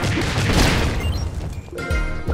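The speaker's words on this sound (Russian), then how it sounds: "Те же бочки, те же взрывы." Barrels blowing up in the platformer The Adventure Pals, a dense run of crashing, booming bursts that fill the clip, with sharper thuds landing near the end.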